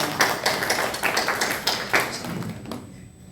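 A church congregation claps at a Sunday service, a steady run of sharp, fairly close handclaps that fades away after a few seconds.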